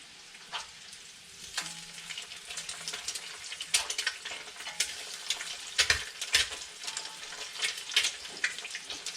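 Breakfast frying in a pan over an open fire in a cabin fireplace, soft continuous sizzle with scattered crackles and pops from the burning wood, close but fairly quiet.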